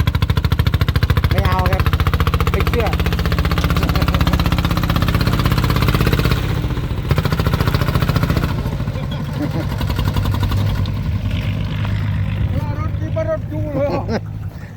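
Steady chugging engine of a two-wheel walking tractor runs throughout at close range, with a person talking over it for much of the time.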